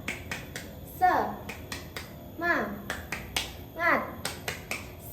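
A group of children claps a quick, sharp rhythm and shouts a short chant in unison three times, with the crisp claps carrying between the calls.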